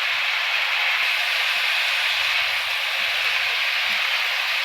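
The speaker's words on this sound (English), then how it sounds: "Fry them for a while so that they get softer" Brinjals frying in a pan give off a steady, close hiss and sizzle that holds level throughout with no pauses or talk.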